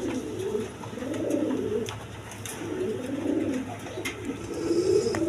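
A pair of Punky pigeons, colored Gorra-type birds kept for sale, coo in repeated low throaty bursts, each rolling call rising and falling, close and clear over a faint steady background hiss.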